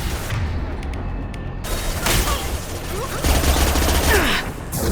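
Gunfire in the sci-fi shooter game Mass Effect, rapid bursts and booming shots layered over a loud, dense battle soundscape with mechanical clatter and no clear speech.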